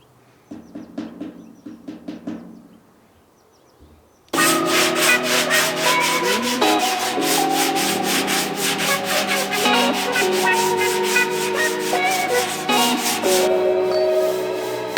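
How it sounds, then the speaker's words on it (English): Hand sanding of Rage body filler on a 1967 VW Squareback produces a few rhythmic scraping strokes, then a pause, then long, loud, continuous rasping close to the surface. "I'm going to let this set, and then I'll come back to sand it."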